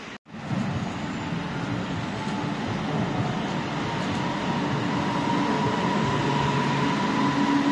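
A metro train pulls into a station platform, its loud, steady rumble building quickly after a brief gap and then holding unbroken to the end, with no voices over it.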